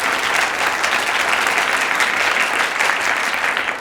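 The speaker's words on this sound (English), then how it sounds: "Let's give them a big round of applause." An audience at a high school quiz bowl championship breaks into loud, sustained applause, a dense even roar of clapping hands holding steady for several seconds.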